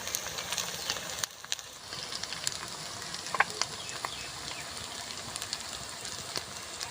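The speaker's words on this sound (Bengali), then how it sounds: "আদা রসুন আর পেঁয়াজটা আমি সুন্দরভাবে একসঙ্গে কষিয়ে নেব" Ginger, garlic and onion fry with ground chilli and other spices in a pan, a faint, continuous crackling sizzle with scattered small pops and no voices.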